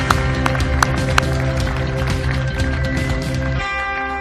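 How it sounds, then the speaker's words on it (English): An audience applauds for Koichi Tsuji, General Manager of Yamaha Motor's Motorsports Development Division, at the Movistar Yamaha YZR-M1 launch, a dense, steady clapping of many hands with a few sharper claps, fading near the end. "Round of applause for Mr. Tsuji, please."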